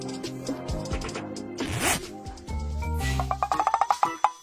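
A clothing zipper is drawn up in a rapid series of ratcheting clicks near the end, loud and close, after a stretch of rustling fabric and movement with no talk.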